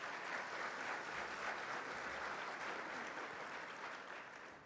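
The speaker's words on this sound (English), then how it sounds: "And I think Namibia deserves a round of applause" A round of applause at an oil and gas industry conference, dense steady clapping from a large audience that holds even for several seconds and tapers slightly at the end.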